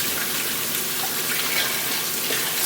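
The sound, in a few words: tap water rinsing blender cup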